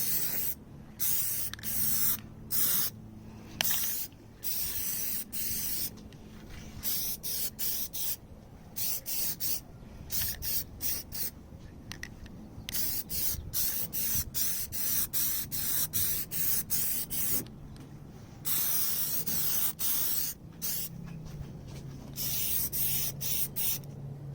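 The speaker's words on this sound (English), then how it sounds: "So basically what you want to do is just kind of spray everything." Repeated bursts of aerosol spray hissing from a can of Plasti-Dip rubberized paint onto a BMW E90 grille, short and long pulls separated by brief pauses, close and steady throughout.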